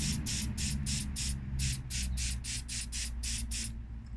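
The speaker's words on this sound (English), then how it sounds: "I'm just using Carb Clean" Carb cleaner sprayed onto engine parts in about a dozen quick, regular hissing bursts, close and fairly quiet, with a low background rumble between them.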